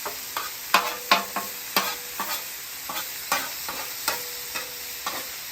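Sausage links, peppers and onions fry in a pan with a steady sizzle, broken by regular clacks and scrapes of a utensil stirring and nudging the food, fairly close and with no talking.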